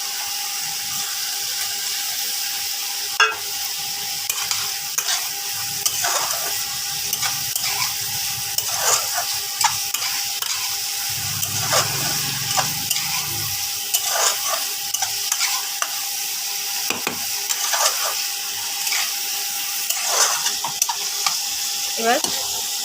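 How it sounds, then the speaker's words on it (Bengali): Fried pointed gourd (potol) stirred in a frying pan for a Bengali potato-and-gourd curry: repeated scraping strokes of a spatula over a steady sizzle, close and alone, with no talking. "এবার ভাজা পটলগুলো দিয়ে দেবো।"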